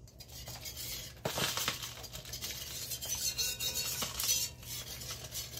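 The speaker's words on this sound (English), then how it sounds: "I'm going to get a whisk." A whisk stirring and scraping gravy in a pan on the stove, a steady close scratchy swishing with intermittent metallic clinks against the pan, no talking.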